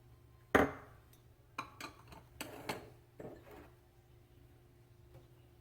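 Dry cornbread ingredients for a cheddar jalapeno recipe being combined in a large bowl, a few soft knocks and clinks of a utensil against the bowl followed by quieter scraping taps, close and sparse.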